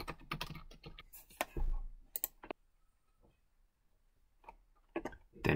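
A password is typed on a computer keyboard in quick clusters of crisp, close key clicks, separated by a short quiet pause before a few final taps.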